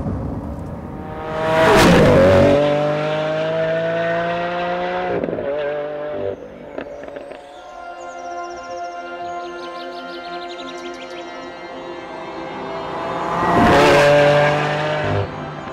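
A Lamborghini Aventador S supercar accelerates hard, its engine rising through rapid revving sweeps with gear changes, loud and close, easing off mid-clip before a second roaring surge near the end; no talking.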